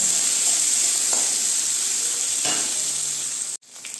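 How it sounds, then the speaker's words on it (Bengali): Onions sizzle loudly in hot mustard oil with a steady, bright hiss and crackle, briefly cutting out near the end before resuming. "পেঁয়াজটা আমি হালকা করে"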